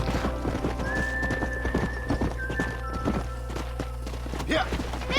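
Horse hooves clip-clop at a steady walking rhythm in the Red Dead Redemption video game, with a whinny and a low constant background drone underneath.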